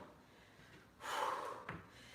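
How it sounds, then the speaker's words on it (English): A single breathy exhale during an oblique and outer-thigh exercise routine, faint and close, rising briefly then fading with a small second puff of breath. "Exhale."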